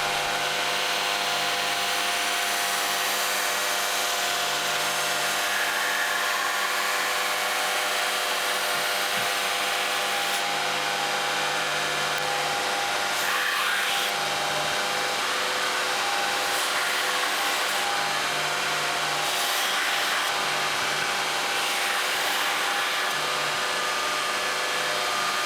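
A stainless steel paring knife blade is ground down toward a marked centre line, giving a steady, continuous abrasive whine and rub that runs throughout with small shifts in pressure and no talking.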